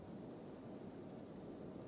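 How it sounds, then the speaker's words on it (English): Steady, soft hiss of acid rain with a low rumble of thunder in a Kenshi game world, continuous and even with no voices. "This is no ordinary rain."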